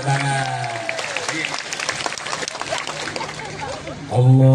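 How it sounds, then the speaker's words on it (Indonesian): Audience applause at an Islamic religious lecture, a steady broadband clatter of many hands filling the room for about four seconds before a voice returns at the end. "Tepuk tangan."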